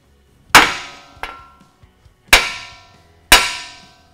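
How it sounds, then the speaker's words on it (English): A flat-faced hammer strikes the end of an outer tie rod on a 2021-or-later Ford Bronco, with three loud, sharp metallic blows and a lighter tap between them, close up and with no talking. "you want to grab a hammer with a nice flat face. And you want to hit really flat right on the end here"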